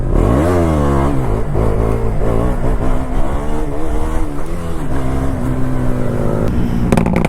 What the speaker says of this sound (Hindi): चलो एक व्हीली ट्राई करता हूँ